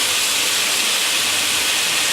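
Chicken sizzling in a hot pan over medium heat, a loud, close, continuous hiss that stays steady throughout, with no talking.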